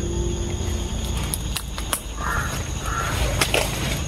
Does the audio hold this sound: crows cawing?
yes